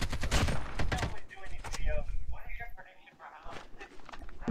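Bursts of gunfire in Call of Duty Mobile, rapid shots cracking in quick clusters over busy game sound, with players talking throughout.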